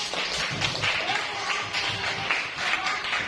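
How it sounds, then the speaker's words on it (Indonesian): Children in a classroom clap for a fellow student group, a dense crackle of light hand claps that stays fairly even throughout at close range, with faint voices mixed in. "Tepuk tangan untuk grup auditori"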